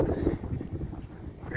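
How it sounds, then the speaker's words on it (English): Gusty wind on a foggy mountain along the Appalachian Trail buffets the microphone with low rumbling bursts that rise and fall, fairly loud throughout. "And it is windy again, as usual."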